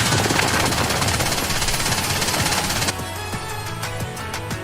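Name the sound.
heavy machine gun firing in a video game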